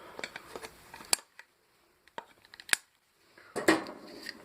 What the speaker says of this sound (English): Got a little bit of wire, which we'll trim off.